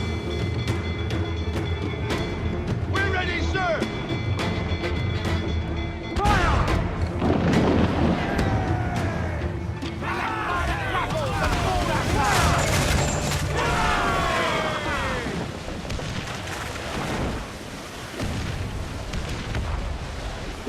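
Ship cannon broadsides in Assassin's Creed IV Black Flag boom repeatedly in loud, dense volleys over a steady sea and wind bed, with crashes and debris, continuous and heavy throughout.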